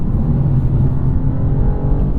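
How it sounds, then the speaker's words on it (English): A 2023 BMW M2 with a six-speed manual gearbox gives a loud, close, deep engine rumble through a downshift, holding a steady throaty drone throughout. "Listen to this downshift."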